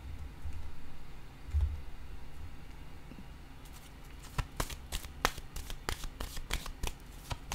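Tarot cards are shuffled close up in a quiet room, first a soft continuous rustle, then a run of crisp, rapid riffling flicks and taps growing more distinct toward the end.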